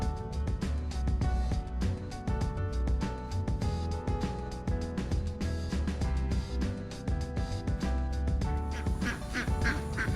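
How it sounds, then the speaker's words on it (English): Ducks quack repeatedly over a dense, loud bed of music, with the calls blending into the steady backing throughout. "Thinking of Desiree and how she would probably pet all these ducks"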